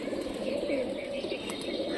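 A brief stretch of soft, throaty cooing from local Rajshahi flying pigeons, including a red pilong, continues evenly with faint chirps layered above.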